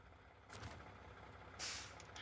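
Truck air brake hissing in a driving game: two short, sharp bursts of released air, the second louder and longer, over a low idling engine rumble.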